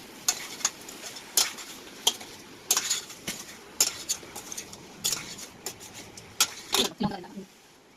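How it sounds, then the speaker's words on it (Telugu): Metal spoon scraping and clinking in a pot of nattu kodi (country chicken) curry with turmeric, sharp irregular stirring strikes close up over a faint low background, with talk alongside. "ఇట్లా నేను మొత్తం తిప్పుకుంటున్నాను"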